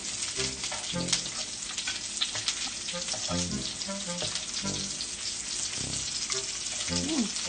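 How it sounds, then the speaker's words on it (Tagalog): Dried fish (tuyo) frying in a pan makes a lively, close crackle and sizzle with irregular pops and spatters that continue steadily throughout. "Sandali na naman lutuin ang tuyo."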